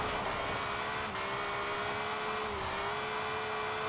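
A BMW drift build climbing uphill on sports tires in Forza Horizon 4, its engine droning steadily at sustained high revs with a whining tone, loud and continuous throughout with no talk.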